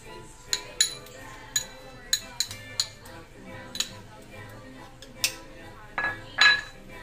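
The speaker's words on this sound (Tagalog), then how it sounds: "Tapos i-mix natin." A spoon stirring ingredients in a bowl, with a string of sharp metallic clinks and taps at an uneven pace, fairly close and moderately loud over quiet background.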